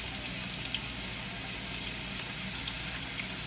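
Onions sizzle in hot ghee with spices in a frying pan, a steady soft crackling hiss that is fairly faint and close by, with small pops scattered throughout.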